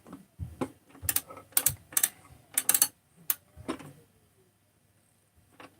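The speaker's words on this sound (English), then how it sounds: "you can just use a ratchet instead of an open-ended wrench" A ratchet wrench works on a 372 motorcycle crankcase, giving short bursts of rapid metallic clicking separated by brief pauses, fairly close and moderately quiet, with no talking.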